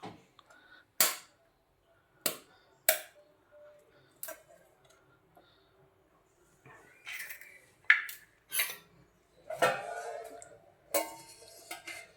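Eggs cracked for a bun omelette: a series of sharp, separate cracks and taps spaced through the clip, close and fairly loud against a quiet background, with a little faint talk.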